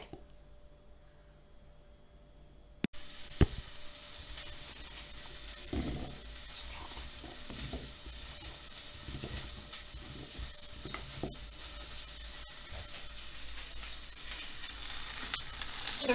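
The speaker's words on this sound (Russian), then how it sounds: "Разогрела масло на сковородке и высыпаю сюда яблоки." Apples with sugar frying in butter in a pan, a continuous close sizzle with scraping stirring strokes that grows gradually louder, with no talking.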